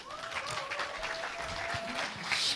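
Steady applause from an audience at a political party rally in Jeju, welcoming a candidate to the stage for a supreme council election speech; dense, continuous clapping that swells slightly near the end, with a faint voice underneath.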